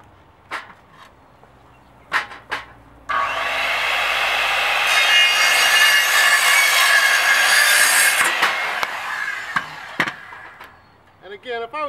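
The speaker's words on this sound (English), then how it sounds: "Plug the saw in." An electric saw cuts pear tree firewood in one sustained, loud grinding pass of about five seconds, framed by scattered knocks and handling clatter of wood before and after.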